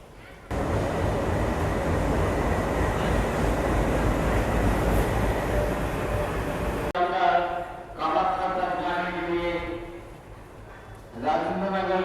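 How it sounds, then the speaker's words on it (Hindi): The Rajendranagar–Kamakhya Capital Express pulls into platform 1 at a station, a loud, steady rolling rumble for several seconds that cuts off, followed by voices and a platform announcement. "चलो, फाइनली अपनी ट्रेन आ रही है"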